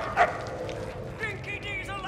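A dog in the Mad Max video game lets out a single short bark near the start, then soft whimpering yips mix with low game ambience and a faint voice.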